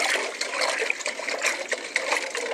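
Water being stirred by hand in a soilless azolla growing basin, a continuous close sloshing and swirling with small splashes and gurgles throughout.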